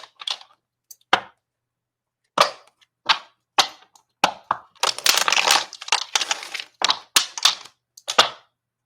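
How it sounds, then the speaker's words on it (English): A deck of tarot cards is shuffled in sharp, separate snaps and clicks, with a denser riffling burst in the middle. "we're just going to shuffle the deck just a few times"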